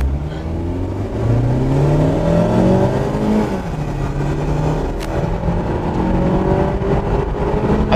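Toyota Camry accelerating hard in a side-by-side race against a Mazda 6, heard from inside the car as the loud engine note climbs steadily through the gears, with a brief shift dip midway and no talking.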